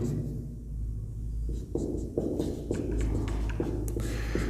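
Chalk or a pen writing on a board or paper during a maths lesson, with scratchy strokes and taps over a low steady room hum, close and moderately loud.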